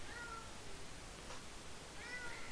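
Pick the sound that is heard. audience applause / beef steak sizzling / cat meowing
cat meowing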